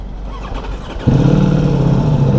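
A Ducati Multistrada V4S motorcycle engine starts midway, cranking briefly and then catching into a loud, steady close-up idle with no talking.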